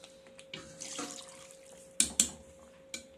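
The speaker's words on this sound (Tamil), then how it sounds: "நம்ம மசாலா அரைக்க யூஸ் பண்ணோம்ல தண்ணி அந்த தண்ணி அதில் ஊற்றிடலாம்" Leftover masala-grinding water poured into a pot of Chettinad chicken curry, a close splashy stream with a few sharper splashes near the end, no talking.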